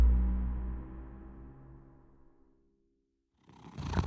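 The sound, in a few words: cat Gatouille purring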